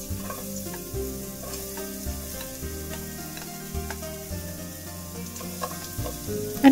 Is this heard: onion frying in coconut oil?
yes